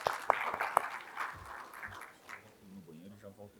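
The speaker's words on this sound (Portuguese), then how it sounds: "Uma salva de palmas aí para o Ramon" A conference audience at a solar energy event briefly applauds a speaker with a few faint, scattered claps that quickly die away as a voice starts talking.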